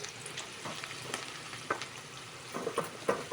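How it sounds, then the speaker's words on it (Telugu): Onions fry in hot oil toward golden brown for a mushroom and cashew curry, a soft continuous sizzle with light crackles and occasional stirring scrapes, close and fairly quiet. "ఆనియన్స్, ఇది బ్రౌన్ అండ్ గోల్డ్ కలర్లో ఫ్రై చేసుకోవాలి ఫ్రెండ్స్"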